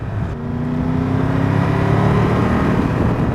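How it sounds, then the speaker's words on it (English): Engine of a 2024 Triumph Tiger 1200 GT Pro, a T-plane triple, grunting under load on the road, a loud steady low drone with gently climbing harmonics and wind noise, no talking. "I don't know if you can hear that engine,"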